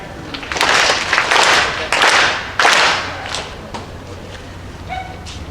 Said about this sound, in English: Let us sincerely clap our hands 4 times together.